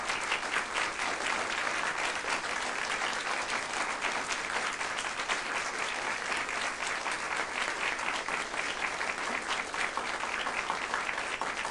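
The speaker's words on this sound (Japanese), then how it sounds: "鳴り止まぬ拍手" Unceasing applause fills a concert hall after a final concert, a dense, even roar of many hands clapping that goes on without a break.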